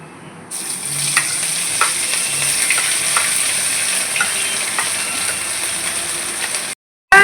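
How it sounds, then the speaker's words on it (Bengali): Ground cumin, ground coriander and a ginger-tomato paste sizzle and crackle steadily in hot oil for a Bengali veg dal, a continuous close frying hiss with faint stirring, cutting off abruptly near the end. "1 চা চামচ জিরে গুঁড়ো, 1 চা চামচ ধনিয়া গুঁড়ো একসাথে আমরা তেলে ছেড়ে দেবো।"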